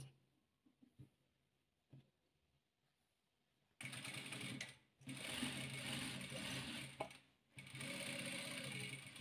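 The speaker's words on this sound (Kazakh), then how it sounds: "көк түсімізді дәл мындай қылып тігіп аламыз" A sewing machine stitches quilt squares, at first a few faint clicks, then a loud steady mechanical whir that runs for several seconds, pauses briefly, and resumes, with no talking.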